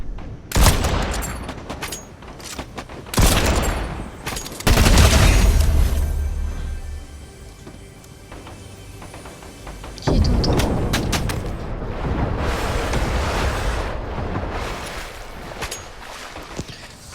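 Rifle and other gunfire in the Fortnite video game, heavy bursts and booming volleys recurring through the stretch, loud and dense, with quieter gaps between the barrages.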